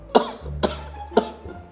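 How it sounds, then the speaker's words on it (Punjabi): A patient at a doctor's visit gives three distinct, close coughs about half a second apart, with a faint low hum underneath. "ਥੋੜਾ ਸਾ ਉੱਚੀ ਖਾਂਸੀ ਕਰੇ"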